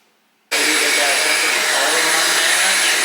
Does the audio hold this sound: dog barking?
no